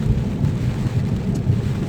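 Wind and rain lash Winston-Salem, North Carolina ahead of Hurricane Ian, a loud, continuous low rumble of gusts with rainfall hissing over it.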